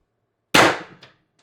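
A single sharp shot from an X-68 Storm Trooper blaster build during test firing, a loud close crack with a brief ringing tail and a fainter echo just after, alone in quiet.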